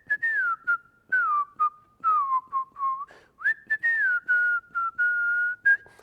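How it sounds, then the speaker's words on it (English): A person whistles a tune from an animated Robin Hood movie, a clear melodic line in short phrases with small gaps between notes. The whistling is alone and close, with no talking over it. "I always whistle it"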